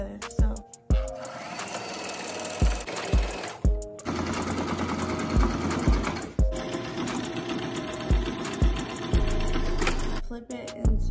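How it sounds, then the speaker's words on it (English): A sewing machine stitches the sides of a fabric face mask together in fast buzzing runs, stopping and restarting several times with short pauses between bursts, loud and close. "So now what you're gonna do is sew both sides together."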